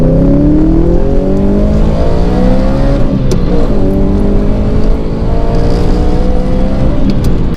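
A loud sports car engine drones and revs continuously up close, its pitch rising and falling through gear changes with no talking.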